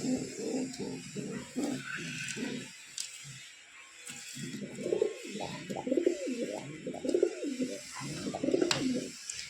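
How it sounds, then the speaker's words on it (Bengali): Caged pilong pigeons, a pair, keep up a steady run of deep, bubbling coos close by, with a short quiet gap early on and faint higher chirps in the background. "এই খাঁচায় এক জোড়া পিলং পায়রা আছে,"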